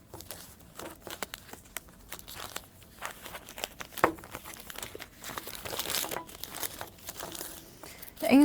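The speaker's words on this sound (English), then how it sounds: "Inside, we use this kind of oil paper to wrap it up" Oil paper crinkles and rustles in irregular bursts while wrapping a fuel injector valve assembly, a soft close handling sound with scattered crackles and louder crumpling toward the end, no speech.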